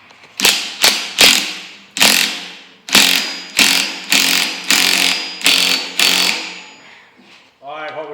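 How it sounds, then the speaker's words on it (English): Repeated sharp metallic blows, about a dozen evenly spaced loud hits, as a two-jaw puller is worked to free a rusted steering wheel from a Ford tractor, ending with a short mechanical whir. "got enough rubber melted out from under it to get this puller on it. So we're gonna see what"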